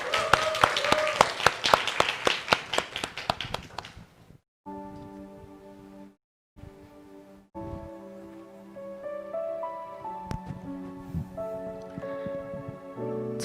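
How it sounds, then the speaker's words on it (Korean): Church congregation at a Sunday worship service applauds a young member introduced to share a testimony, a burst of brisk, loud clapping for about four seconds that gives way to soft sustained keyboard notes. "박수로 추천하겠습니다"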